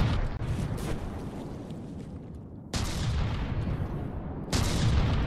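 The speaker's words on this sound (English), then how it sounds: "The mortars seem to be coming awfully close at least." Mortar shells land nearby in a video game battle, with heavy booming impacts at intervals over a constant low rumble of battlefield noise.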